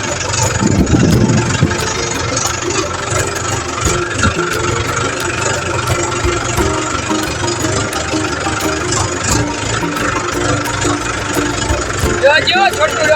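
A small tractor engine runs steadily at close range, a continuous knocking mid-low rumble with a rough rhythmic chug, loud and unbroken throughout the clip.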